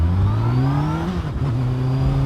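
A motorbike pulls away hard from the front of stopped traffic, its engine revving up in rising pitch with a brief gear change midway, loud and close.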